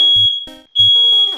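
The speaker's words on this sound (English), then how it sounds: "fucking smoke detector." A household smoke detector near a stove goes off close by with a shrill, piercing electronic tone. The tone is cut by short rhythmic chirps and pulses and carries on for the whole moment.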